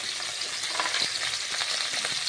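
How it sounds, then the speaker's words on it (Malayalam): Sliced okra fries in hot coconut oil with a dense, steady sizzle and crackle, close and continuous, with faint stirring noises and no talk. "നമ്മുടെ വെളിച്ചെണ്ണ ചൂടായി വന്നെങ്കിൽ നമുക്ക് വെണ്ടക്കായ ഇടാം കേട്ടോ വെണ്ടക്കായ വെളിച്ചെണ്ണ നമുക്ക് വറുത്തിടുക"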